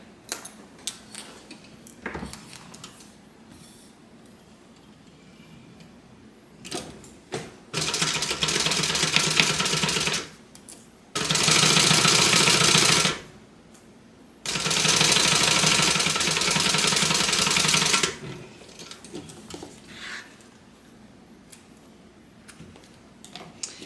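A sewing machine stitches a zipper onto a clutch pocket in three loud, sustained bursts of rapid whirring and needle clatter, separated by pauses with faint handling noises and small clicks.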